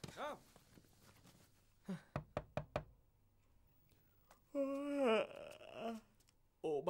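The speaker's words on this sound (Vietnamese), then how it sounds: "Lúc nãy ba gõ cửa mấy lần mà không thấy con trả lời." Several sharp knocks on a wooden door come in a quick cluster at moderate distance, with faint voices before and a raised, wailing voice afterward in a quiet indoor room.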